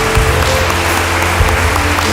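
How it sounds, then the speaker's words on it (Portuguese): A church congregation at an evening worship celebration claps along over sustained low musical tones, the hand claps forming a dense, loud, steady wash that fills the room. "aplauda ao Senhor nessa noite"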